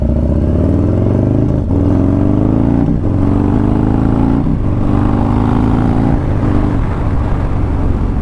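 A 2020 Harley-Davidson Low Rider S with a 131ci engine and a Two Brothers Racing 2-into-1 exhaust, a loud, close, deep engine note rising and falling through several revs and gear changes, with wind noise and no talking.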